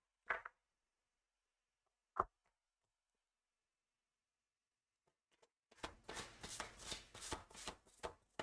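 Tarot cards being shuffled by hand, two isolated taps on the deck and then a dense run of riffling, flicking bursts lasting a few seconds, close and quiet after a stretch of silence, with no talking.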